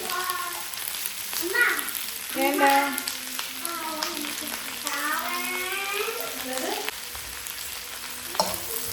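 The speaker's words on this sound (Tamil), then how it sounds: "வெங்காயத்தை நல்லா வதக்கி விட்ருவோம்" Steady sizzling and frying of onions with curry leaves in a pan, with stirring noises and someone talking in Tamil over it throughout.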